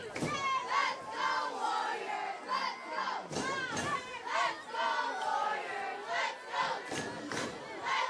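Crowd at a high school football game between South San Francisco and Gunn, roaring and shouting in a sustained, swelling cheer with rhythmic surges, loud and close throughout.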